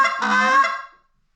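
One short, raspy goose honk is blown close up on a call, then stops abruptly.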